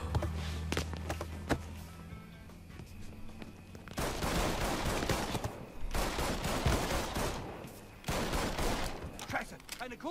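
Gunfire from the video game Mafia III erupts in loud, rapid volleys. Dense bursts of shots are separated by short gaps, and a few sharp single cracks come in the quieter opening seconds.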